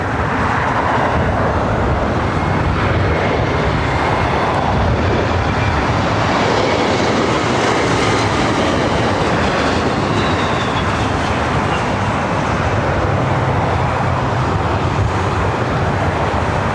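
A Southwest Airlines Boeing 737-800 arriving from Houston lands at LAX with a continuous loud roar that holds steady throughout.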